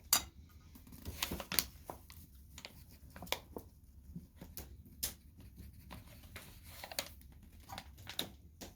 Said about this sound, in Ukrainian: тісто ложечкою розмішуємо до тих пір, поки розмішується